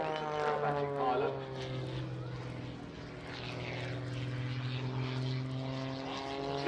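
Propeller-driven aerobatic display airplane at the Farnborough Airshow, a steady engine drone with a strong tonal hum that holds fairly loud throughout, with commentary voices talking over it.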